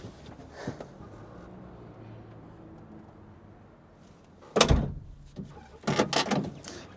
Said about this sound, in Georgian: კარი არ ჩერდება